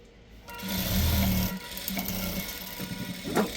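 A sewing machine stitching a shirt collar whirs in a loud, steady run after a brief quiet start, then drops to a lighter, uneven stitching hum with small clicks toward the end.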